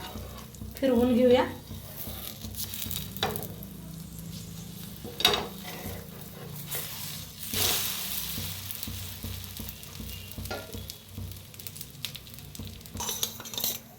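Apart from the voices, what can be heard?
egg paratha frying on a griddle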